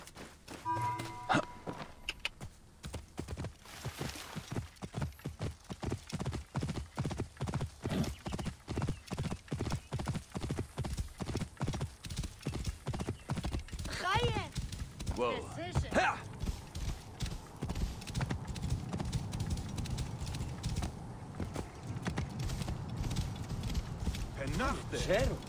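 A horse gallops in Assassin's Creed Origins, with steady rhythmic hoofbeats close up, a whinny partway through, and game ambience behind; someone talks intermittently over it.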